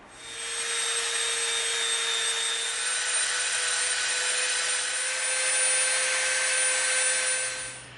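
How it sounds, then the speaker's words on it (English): A Dremel rotary tool bevelling the edges of EVA foam, a loud, steady high-pitched whine and grinding drone held close for the whole stretch, with slight swells in pitch and level. "we're going to get our Dremel out"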